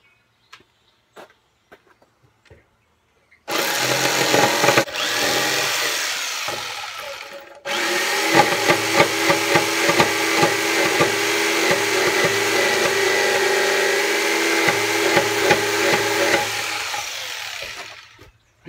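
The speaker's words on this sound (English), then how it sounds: "when you're cutting with a jigsaw, especially this is a yellow pine, an inch and a half" A jigsaw cuts through inch-and-a-half-thick yellow pine for a Viking camp chair, its loud, steady buzzing rasp beginning after a few quiet seconds, pausing briefly, then running on continuously before stopping near the end.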